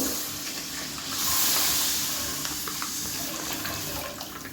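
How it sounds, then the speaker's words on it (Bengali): One litre of packet milk pours into a pot for rabri kheer as a steady, close, hissing stream of liquid that lasts throughout. "এবারে আমি এখানে এক লিটার নিয়েছি প্যাকেট প্যাকেটের দুধ এবারে ঢেলে দেবো"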